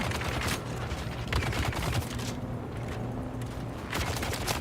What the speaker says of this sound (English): that dude with the chain gun pumped like 25 rounds into your chest